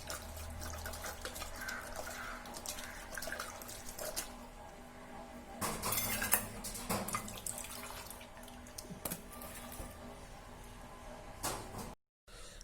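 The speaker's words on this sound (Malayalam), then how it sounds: "ഉള്ളൊക്കെ ഒന്ന് കഴുകി എടുക്കാം കേട്ടോ." Pumpkin seeds are rinsed under running tap water in a sink, a continuous trickling splash with louder surges of flow and handling, then a brief dropout near the end.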